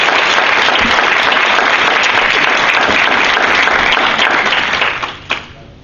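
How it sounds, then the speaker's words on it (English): A large audience breaks into loud, sustained applause for an honoree, the dense clapping holding steady for several seconds and then thinning to a few scattered final claps. "Let's give her a round of applause,"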